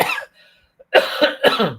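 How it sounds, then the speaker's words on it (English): Several sharp, close coughs, one at the start and a cluster of three near the end, separated by a brief quiet gap. "sorry, I got a little bit cough."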